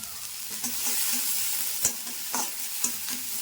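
Chopped onion and green chili stir-fry in a little oil while a spatula scrapes the pan in a rhythm of repeated strokes over a constant close sizzle.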